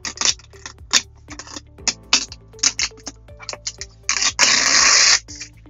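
Gloss vinyl wrap is peeled from a Tesla center console in a series of short, crisp crackles and ticks, ending in one longer, louder tearing rip.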